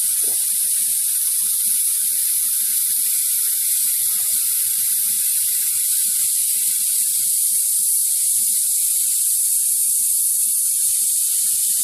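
A steady, loud hiss of an airbrush spraying thinned Vallejo Model Color paint continuously, with faint mechanical ticking underneath and no voices.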